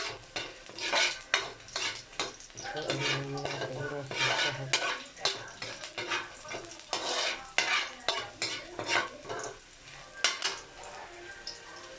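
Pork meat cooking in a pot for a sotanghon and sayote soup, stirred with a ladle in frequent scraping, clattering strokes over a soft sizzle, close and continuous, with brief talk here and there.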